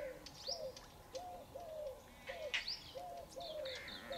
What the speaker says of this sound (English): Eurasian and red-collared doves are the most numerous of the birds that come to drink